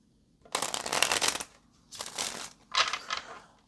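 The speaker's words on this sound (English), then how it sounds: "let's get one more good shuffle" Three bursts of a deck of cards being riffle shuffled close by, crisp rapid flutters separated by brief pauses.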